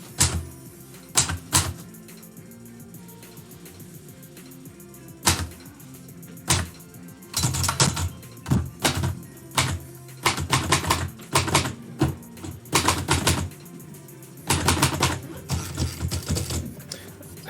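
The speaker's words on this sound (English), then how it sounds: "the sound of typewriter work might actually be conducive to help people feel" A typewriter clacks in bursts of rapid keystrokes, with sharp carriage-return dings and pauses between runs, close and fairly loud.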